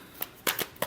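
Tarot cards get a last quick shuffle, a few crisp papery riffles and snaps in under a second, close and fairly soft.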